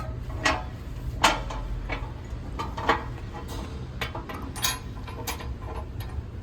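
Large bolts with locking washers and big flat washers are screwed down on a Turn Offroad Hyperlyte rear bumper on a Ford Bronco, with close metallic clicks and ratcheting ticks at an uneven pace over a low steady hum.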